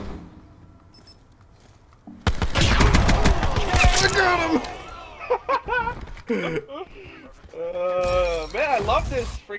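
Pistol shots in the shooter game Black Ops 4 crack out in a loud flurry partway through, with other in-game noise and effects following.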